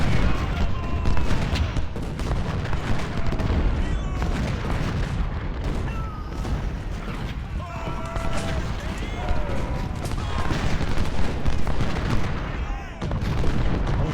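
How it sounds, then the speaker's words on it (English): Artillery fire in the Civil War strategy game Ultimate General: Civil War at Chancellorsville, 1863, a dense continuous rumble of booming cannon and crackling musketry filling the whole stretch, loud and unbroken. "No, but we will send artillery to help him."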